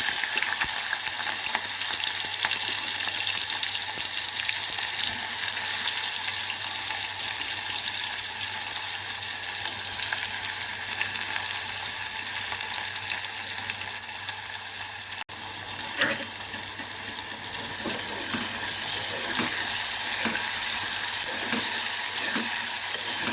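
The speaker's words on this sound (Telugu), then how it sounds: "ఉల్లిపాయని ఆయిల్లో వేగనివ్వాలి" Onion and green chillies fry in hot oil with spice powder for a brinjal and tomato curry, giving a steady, close sizzle throughout with faint stirring scrapes near the end.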